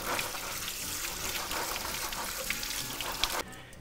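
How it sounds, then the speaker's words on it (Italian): Soaked chickpeas being rinsed under running water, a steady close splashing and trickling wash that stops abruptly near the end. "gli do come sempre una sciacquata"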